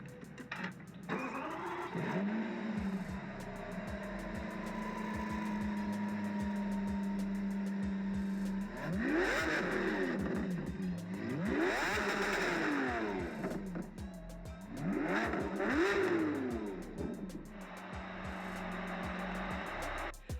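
A Lamborghini Countach LPI 800 engine starts and idles with a steady hum, then revs up sharply in several rising bursts before settling back, loud and close.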